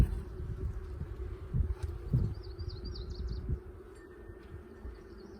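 Honey bees hum steadily from an opened hive during an inspection, a dense low drone with brief louder swells and faint bird chirps in the background.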